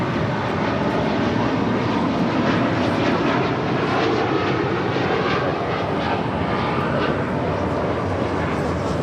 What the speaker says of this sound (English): That was the flight heading to London